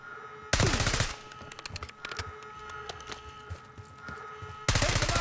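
Automatic gunfire in Call of Duty: Black Ops 6 during a prison break mission, with close loud bursts at the start and end and scattered shots and distant fire between them, no voices.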